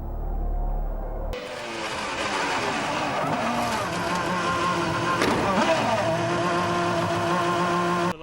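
Formula 1 car crash during a 2003 race after ignoring waved yellow flags: a loud, sustained roar of racing engines and tyre scrubbing, broadband and continuous, with a sharp burst of noise midway, under faint commentary.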